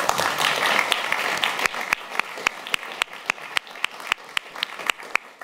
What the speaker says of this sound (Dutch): Een hartelijk applaus.